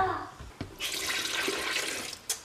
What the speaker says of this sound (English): then you just add 4 cups of water